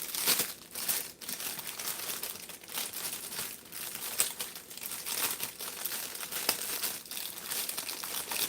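A small plastic bag holding a toy octopus crinkles and crackles close by in repeated bursts of handling, with no speech.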